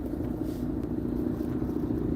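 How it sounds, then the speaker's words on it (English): Cars pass close by on a road with almost no shoulder, heard as a steady loud traffic rumble throughout and no speech over it. "There is such a small sliver of shoulder for these cars to even drive on."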